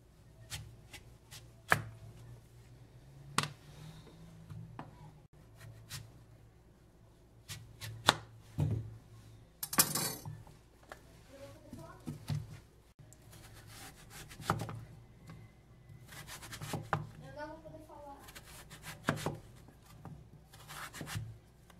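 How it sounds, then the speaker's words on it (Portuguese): A knife chops pumpkin into small pieces against a cutting board in irregular sharp knocks, with some scraping and rubbing sounds between cuts, close and fairly quiet. "Agora eu só vou cortar em pequenos pedaços"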